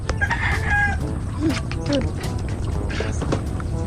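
Chicken clucking and short crowing calls up close, mixed with clatter and brief voices in the background.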